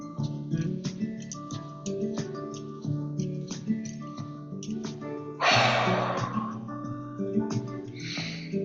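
A single forceful breath rushes out, then is drawn back in, during a kriya breathing exercise. It is a loud, breathy burst over steady background music.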